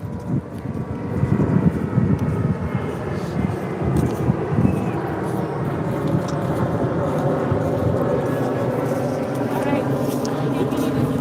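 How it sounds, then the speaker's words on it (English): An airplane flies overhead at a beach, a broad, rumbling drone that swells early and then holds steady, with people talking beneath it. "The plane!"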